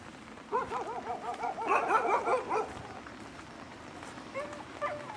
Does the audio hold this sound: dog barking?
yes